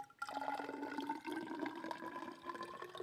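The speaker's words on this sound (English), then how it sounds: "I love the sound of the water pouring in a graduated cylinder" Distilled water pours steadily into a graduated cylinder, a continuous close trickling and splashing with a gently rising pitch as the cylinder fills, heard alone.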